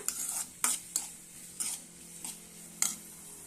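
Green chilies and onions stirred in a pan for a tomato and dried shrimp curry, with a faint sizzle under repeated sharp scrapes and clinks of a spoon against the pan.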